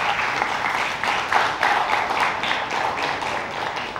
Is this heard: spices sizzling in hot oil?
no